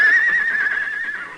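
A horse neighs in a radio western drama, one long, clear, fairly close whinny that holds steady and slowly fades over about a second and a half, with no talk over it.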